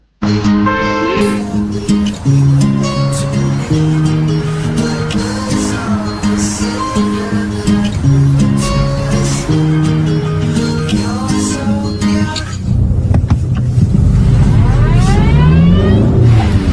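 A Volkswagen GTI in a European TV commercial: a loud, close engine rumble and rev swells up over the final few seconds, after a long stretch of prominent music that continues beneath it.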